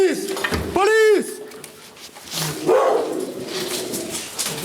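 Police dog during a drug raid, giving a few sharp, rising yelping barks close by amid loud shouting voices and the commotion of the arrest.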